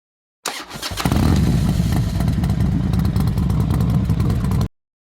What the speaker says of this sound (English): This is the 2025 KTM FREERIDE E, and trust me, it might just be the easiest dirt bike you've ever ridden.